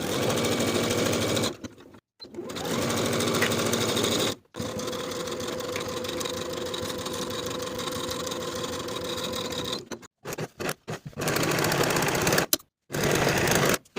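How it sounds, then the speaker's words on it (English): Sewing machine stitching the side and shoulder seams of a beginner boxy top at a 5/8 inch seam allowance, a steady close whirring run broken by short pauses and a few stop-start bursts near the end. "Then I'll sew each side seam and each shoulder seam with a 5/8 inch seam allowance"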